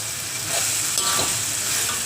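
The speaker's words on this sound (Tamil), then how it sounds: "போட்டு லேசாக கிளறி விட்டு சிக்கன் எலும்பை சேர்த்துருங்க" Chicken bones fry in a pan and are stirred, a steady broadband sizzle with scraping stir strokes around the middle, heard up close with no talking, while a Tamil chicken bone kofta kuzhambu is being cooked.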